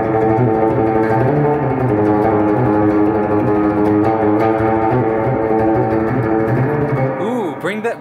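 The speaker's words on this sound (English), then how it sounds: "it just sounds like it's just surf rock with just a bunch of reverb on it, a bunch of spring reverb" A distorted electric guitar plays a metal tune drenched in heavy spring reverb, loud sustained chords ringing and smearing together continuously before a brief splashy tail at the end.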